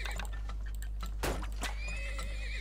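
Horses neighing and whinnying in a farming video game, several brief calls overlapping with light clip-clop hooves over a steady low game hum, fairly quiet with no talk.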